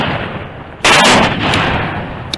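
A shotgun blast fired while duck hunting in the field rings out once, loud and close, its sharp crack followed by a brief fading tail, with a fainter pop near the end.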